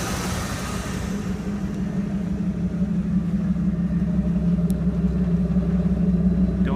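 A Ford truck with a 460 big block engine and exhaust stacks, a steady, deep rumble that grows slightly louder over several seconds, heard alone without voices.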